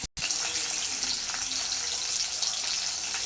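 Three cracked eggs fry in hot oil in a kadai for egg fried rice, giving a loud, steady hissing sizzle close up after a brief cut at the start, with no talking.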